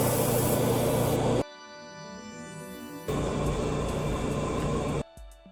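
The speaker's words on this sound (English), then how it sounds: "We're gonna start priming now." Spray primer hisses onto a custom Mafex Ghost Rider action figure in two loud, close bursts, the first about a second and a half long and the second about two seconds, separated by a quieter gap.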